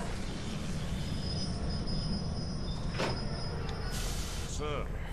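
A train moves along in the video game The Darkness, with a steady low rumble of rolling cars, a thin high squeal and a brief clank, while voices are faintly present.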